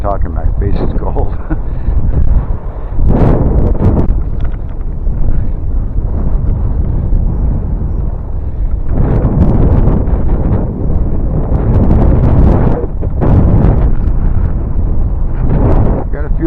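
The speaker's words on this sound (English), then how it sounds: "With the wind blowing in my face, I should have left my face mask hood on." Wind buffeting a microphone on the Central Lakes Trail between Dalton and Fergus Falls, Minnesota, on a cold day: loud, continuous low roaring gusts that swell and ease in waves, with no talk heard.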